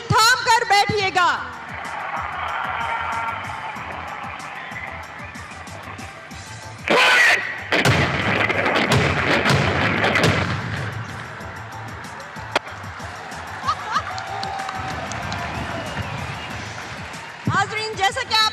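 Artillery guns of a field regiment fire during a Defence Day demonstration in a stadium, with a sudden loud blast around seven seconds that rolls and rumbles away for several seconds, amid crowd noise and an announcer's voice.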